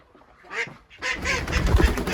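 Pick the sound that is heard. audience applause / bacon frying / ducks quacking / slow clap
ducks quacking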